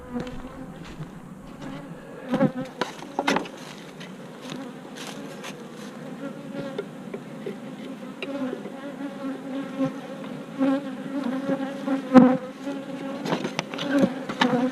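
Honeybees swarm and buzz around an opened hive during a March hive split, a steady droning hum with individual bees zipping past the microphone now and then, close and continuous with no talking.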